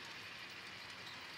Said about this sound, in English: This approaching train is a fictitious Penn Central plutonium special.